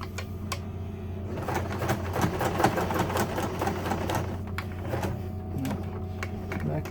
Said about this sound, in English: you get to the corner just like before, and then you sew across